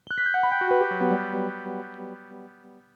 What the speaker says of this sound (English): I'm going to turn up a bit of the sustained sonic strings sound.